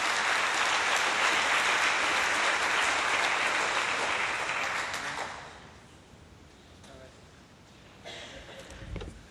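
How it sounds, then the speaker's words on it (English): A plenary conference audience gives a loud, sustained round of clapping for a team's presentation, which fades out after about five seconds as a voice begins to speak. "give this team of St. Scholastica a hearty clap for their good presentation"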